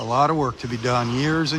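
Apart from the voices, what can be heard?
No everyday noise stands out behind the speech.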